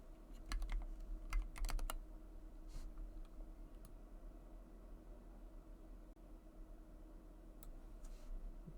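A burst of quick keystrokes clatters on a computer keyboard near the start, a handful of close clicks, then only a faint hum with a few scattered taps.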